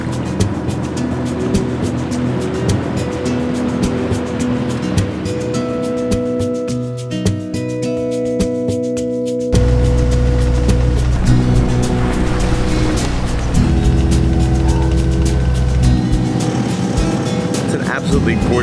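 A cruising sailboat under engine power on a clear day, its motor humming steadily while the hull moves through water, with people talking over it and the engine note rising and growing louder partway through.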